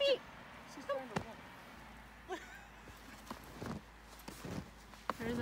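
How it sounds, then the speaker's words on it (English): Horse hooves clip-clop on a snowy neighbourhood road, a few scattered faint hoofbeats in quiet outdoor ambience with no talk. "There's a horse."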